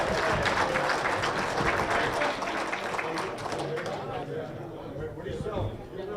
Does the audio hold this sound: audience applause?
yes